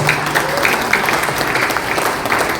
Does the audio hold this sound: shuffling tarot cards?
no